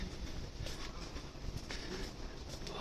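A Kintetsu train runs past at Kyoto Station, a steady rumbling rail noise with faint clicks, heard from a distance behind the platform without speech.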